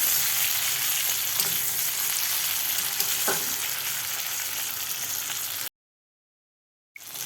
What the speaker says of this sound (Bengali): এবার টমেটো আর পেঁয়াজটা ভালো করে সেদ্ধ করে নিচ্ছি।